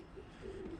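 Birmingham Roller pigeons coo softly in a loft, a low, faint, drawn-out murmur at a distance with no voices.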